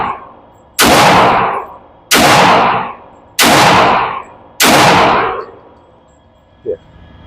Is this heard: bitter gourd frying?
no